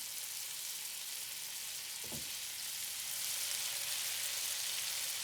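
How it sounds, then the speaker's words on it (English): Egg-white-dipped peppers for chiles rellenos frying in oil in a pan, giving a steady dense close sizzle throughout, with one brief soft thump partway through. "We are gonna be dipping the peppers in the whites and then frying them in the pan."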